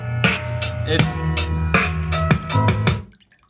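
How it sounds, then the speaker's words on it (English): A Tribit X-Boom Bluetooth speaker submerged in water pumps out thumping bass, each beat churning and splashing the water with bubbly, sloshing bursts in a steady rhythm before cutting off. "that is the most violent reaction I've had out of any Bluetooth speaker I've put in water"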